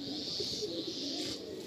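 A pigeon at a bird sale in Kolkata coos softly in low, rolling murmurs close by, over a steady background hum.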